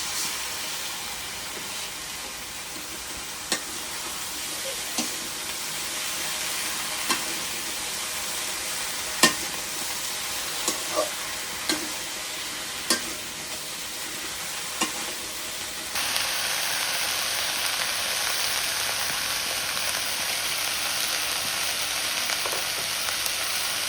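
Small rohu fish curry with taro and greens cooked village-style, vegetables frying in a pan with a steady loud sizzle and occasional sharp clicks of stirring, continuous throughout with no talk.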